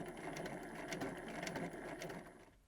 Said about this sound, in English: When you're doing your seams, you're just doing a regular straight stitch, 1/4 inch seam allowance